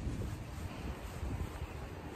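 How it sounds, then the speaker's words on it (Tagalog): Steady low wind rumble pressing against the microphone, fairly quiet and continuous, with a faint wash like water or distant surf. "Malakas hangin dito sa area na to."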